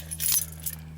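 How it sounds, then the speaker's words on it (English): Keys to a 1999 GMC Yukon SLT jingle briefly and close by, a short metallic jangle over a low steady hum. "Here's your keys."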